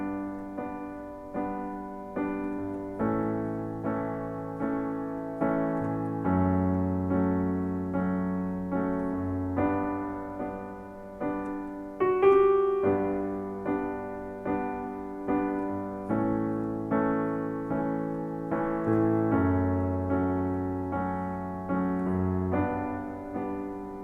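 Solo piano playing the pre-chorus chords of a song in a steady repeated pattern of struck notes, even pulses ringing over sustained low chords, close and clean with no talking.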